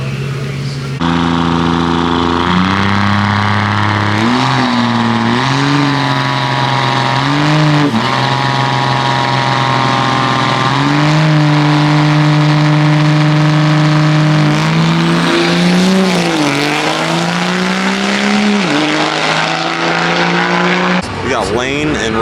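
Drag race cars at an NHRDA no prep event, engines revving loud and close with rising and falling tones, staged revs and a sustained run, while someone talks over them.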